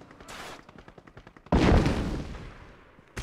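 Gunfire in Crysis multiplayer on the Shore 2 map: a run of rapid, evenly spaced automatic shots, then a loud close blast that rings out and fades slowly, with no talk.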